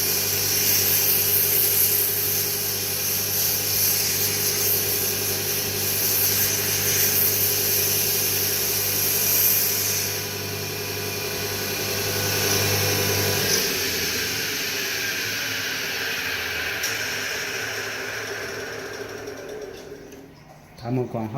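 A mini CNC wood lathe for beads and crafts runs steadily while polishing a bead, a continuous machine whir with rubbing friction that eases off partway through and fades toward the end.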